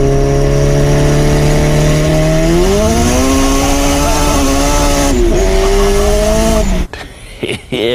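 A turbocharged car engine under acceleration, holding a steady low drone before climbing hard in pitch as boost builds, loud and close, then cutting off abruptly near the end into a few rough bursts.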